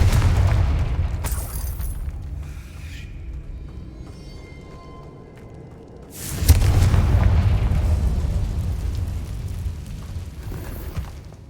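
A Confringo blasting spell in Hogwarts Legacy, first a short burst, then after a quieter stretch of faint magical tones a heavy deep boom that rolls out into a sustained rumbling explosion.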